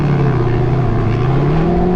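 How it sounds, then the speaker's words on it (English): Sandrail engine at Glamis dunes revving hard as it launches up a sand hill, a loud, continuous throaty roar with rising pitch, close and steady with no talking. "you gun it and just launch up the hill"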